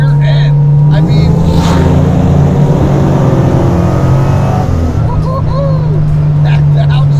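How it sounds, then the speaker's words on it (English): A supercharged LSA-engined 1969 Chevrolet Camaro SS restomod pulls hard with a loud, steady exhaust drone, heard from inside the cabin, then downshifts with a brief change in pitch before accelerating again. "that downshift, baby, just throws your head right back"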